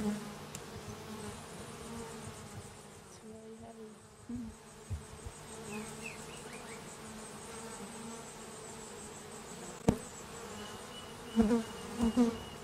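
Honey bees buzz steadily at a low level while being brushed back into the hive during a comb harvest, a continuous droning hum with a few brief louder knocks and rustles near the end.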